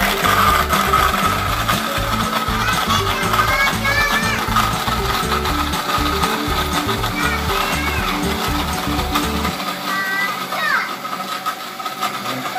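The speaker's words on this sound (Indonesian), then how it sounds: "siap di blender nih" A blender mixing ice, sugar and liquid for a bubble-gum-flavored ice drink, grinding loudly and steadily for about ten seconds, with chopping, rattling texture before it stops, while voices talk over it.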